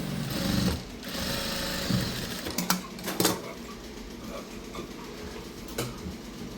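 A sewing machine runs steadily as it stitches a dress, with a continuous mechanical whir broken by brief pauses and a few louder clunks partway through, close and alone with no talking.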